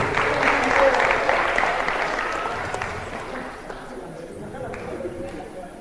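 An audience gives a round of applause at a school gathering, the clapping strongest at the start and gradually fading, with crowd murmur and voices mixed in underneath.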